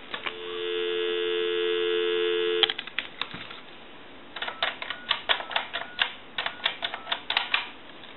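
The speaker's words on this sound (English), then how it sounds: "Give you some dial tone." A Western Electric 2554 Mini Wall telephone gives a steady, humming dial tone for a couple of seconds, then a run of sharp, rhythmic clicks from dialing follows in quick bursts.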